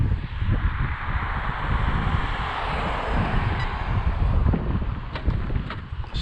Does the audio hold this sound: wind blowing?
yes